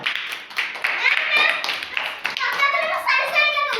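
Children clapping together in a primary classroom during a numeracy lesson, bursts of hand claps mixed with children's voices and a teacher speaking, close and lively.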